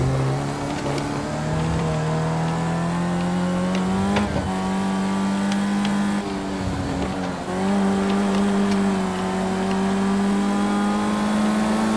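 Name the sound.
race car driving in Project Cars 2 video game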